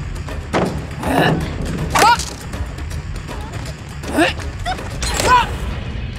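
In the video game Dead by Daylight, the Huntress hurls hatchets, giving several sharp whooshing throws and thuds spread irregularly over a few seconds against game background noise, with some talk mixed in.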